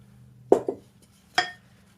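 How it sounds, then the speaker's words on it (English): A wooden spoon stirs Pennsylvania Dutch noodle dough in a bowl, giving a few sharp knocks and clinks against the bowl's side, with two quick taps close together and then one more, near and clear with no talk. "we give it a stir with our wooden spoon until we get it incorporated"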